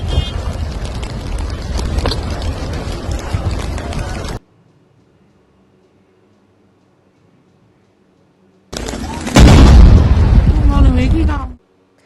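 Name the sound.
explosion of an LPG tanker on a highway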